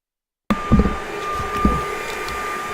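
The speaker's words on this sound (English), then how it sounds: "We had a leaf blower in the back." A leaf blower runs outside behind the room, a steady broadband whooshing drone that starts abruptly and holds at moderate level throughout, with a few faint knocks on top.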